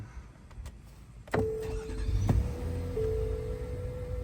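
A 2024 Nissan Pathfinder Platinum engine cranks with a brief whir, then catches and settles into a steady idle hum with a faint high whine, close by.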